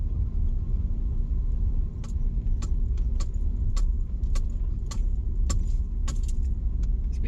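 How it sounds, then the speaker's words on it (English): Keys jangle and bang in sharp, repeated bursts inside a moving car, ringing out over a steady low road and engine rumble. "There's my keys banging there."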